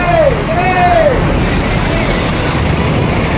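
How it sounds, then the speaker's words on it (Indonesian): An ANS bus from Padang pulling into a busy terminal, a loud nearby engine rumble with a couple of rising and falling whistling tones early on, amid crowd noise. "Inilah ANS yang baru datang lagi. Bis ANS yang dari Padang."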